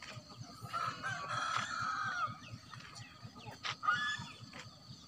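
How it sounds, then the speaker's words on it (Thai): Domestic chickens at a rural home in Udon Thani, Thailand, cluck and call faintly at a distance, a few soft vocalizations over a low steady background. "นี่ไก่บ้านครับ"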